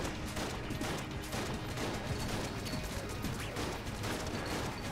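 Rapid gunfire from a turret familiar in Enter the Gungeon, a steady dense stream of shots running the whole time over busy game noise and effects.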